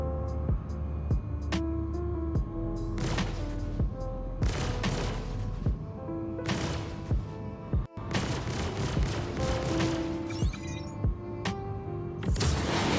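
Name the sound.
sniper gunfire in Star Citizen video game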